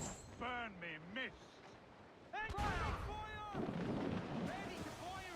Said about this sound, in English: Ready to fire, sir! They're hitters, sir! Fire many volleys!